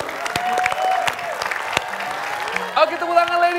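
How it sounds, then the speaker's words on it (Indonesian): A studio audience on an Indonesian televised dating show claps in a scattered burst, with a few sharp individual claps, a host's voice speaking over it and a brief musical sting near the end. "Oke, tepuk tangan ladies."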